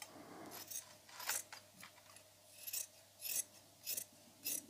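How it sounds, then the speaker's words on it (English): Scissors cutting craft material to size for homemade Christmas decorations, a series of close, crisp snips in separate bursts of a few cuts each, with quiet pauses between and no talking. "Now I'm just going to cut it to size."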